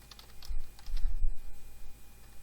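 Keystrokes on a computer keyboard typing code for a beginner's Kotlin programming lesson, a quick irregular run of close clicks and taps with no speech.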